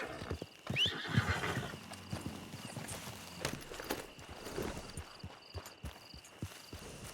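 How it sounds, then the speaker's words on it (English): A horse whinnies near the start, then its hooves clip-clop in a slow, irregular walk, quiet and close, with a few other faint sounds around it. "I don't know where my horse is."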